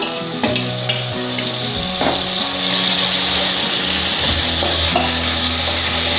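Tomatoes fry with ginger in a pan for a mutton paya goat leg soup, a loud, steady sizzle with clacks of a spoon against the pan early on.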